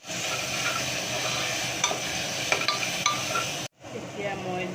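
Ground spices, Kashmiri red chili powder, cumin and coriander, sizzle in a hot pan under steady frying hiss, with a few light clinks of a stirring utensil before a brief cut and renewed sizzling.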